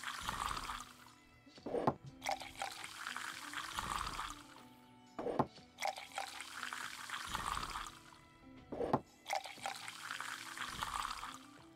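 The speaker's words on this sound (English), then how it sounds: "pouring some perfect beers as we speak" Beer pours from a tap in the tavern management sim Tavern Manager Simulator, a soft hissing liquid stream that returns in three long bursts, each broken by short clinks and thuds, at a low, steady level with no talking.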